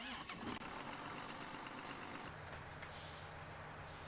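A John Deere tractor in Farming Simulator starts up with a brief hiss, then its engine settles into a low steady idle, faint and distant.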